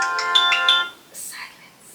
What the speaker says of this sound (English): not my phone.